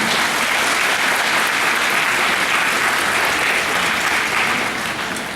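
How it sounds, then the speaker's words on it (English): Spectators at a Mane Event horse-training clinic in British Columbia break into loud, dense applause, a thick unbroken wash of many hands clapping close by that tapers slightly at the end. "Guess you are allowed to clap."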